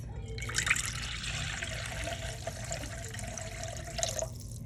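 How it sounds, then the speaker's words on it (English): Liquids for focaccia dough poured into a mixer bowl, a steady close trickling splash lasting several seconds over a low background hum. "I'm gonna take my mixer that's here, and I'm gonna add in my liquids."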